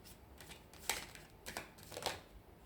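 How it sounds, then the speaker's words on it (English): Tarot cards being shuffled by hand, soft papery riffles in three or four quick bursts, close and quiet with gaps between them. "let's just take one last shuffle."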